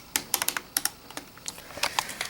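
Keys are pressed on a Dell Inspiron 4100 laptop keyboard in an irregular run of light, close plastic clicks and taps, some in quick pairs, quiet and alone.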